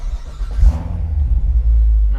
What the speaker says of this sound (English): starting the car up.